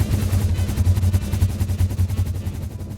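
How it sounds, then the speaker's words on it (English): A big man cannon firing in the video game Satisfactory, a rapid, loud, rhythmic volley of booming pulses that fades slightly toward the end, with no talking. "But this cannon is all ready for testing at night."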